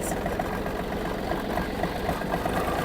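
Yanmar F-200 mini tractor engine running steadily while the tractor turns around, a loud close diesel chug with an even rhythmic knock and no pauses.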